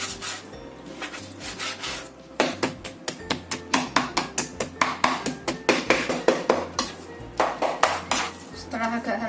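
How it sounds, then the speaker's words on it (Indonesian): Knife chopping chicken meat on a wooden board, a rapid run of sharp repeated knocks in uneven bursts with brief pauses, close and clear over a low steady background. "ayam, ini kita cincang"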